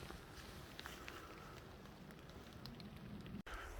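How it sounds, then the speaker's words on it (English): Light rain patters steadily outdoors on a wintry Oregon day, a soft continuous hiss with scattered drop ticks, and a brief bump near the end. "getting a little too rainy"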